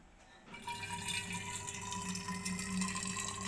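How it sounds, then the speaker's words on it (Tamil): Water coming to a boil in an electric kettle, a soft bubbling hiss that starts abruptly after a quiet moment and then rumbles steadily and faintly up close. "தண்ணி கொதிக்குது பாருங்க."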